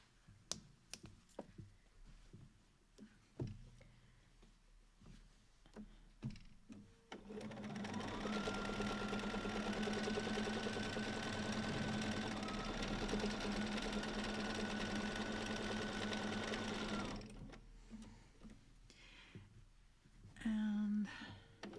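Sewing machine running for free motion quilting: a fast, even mechanical whir and rapid needle clatter held for about ten seconds, close and loud, framed by quieter handling noises and soft talk before and after.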